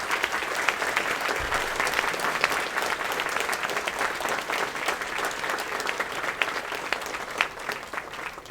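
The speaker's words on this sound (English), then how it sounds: "give all these people a big round of applause" A roomful of guests at a golf celebration breaks into a big round of applause, dense and sustained clapping that holds at an even, fairly loud level for several seconds with no break.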